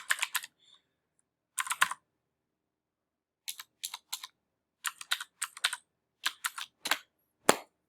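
Keystrokes on a computer keyboard as a login password is typed, coming in short clustered bursts of crisp clicks separated by pauses, fairly close and alone with no talking.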